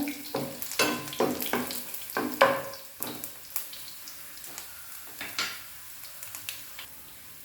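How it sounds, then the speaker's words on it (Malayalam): Garlic frying in a pan over a medium flame, a steady close sizzle broken by a series of sharp crackles and light stirring clicks throughout, with no voices. "വെളുത്തുള്ളിയൊക്കെ ഒന്ന് മൂത്തിട്ടുണ്ട്"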